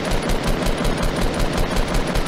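Rapid automatic gunfire from the video game Fortnite rattles in a fast, even burst stream, loud and close, sustained throughout with no talking over it.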